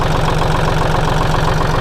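A Kubota L3608 DT tractor's heavy diesel engine idles close by with a steady, rhythmic low chugging and knocking, loud and unbroken throughout.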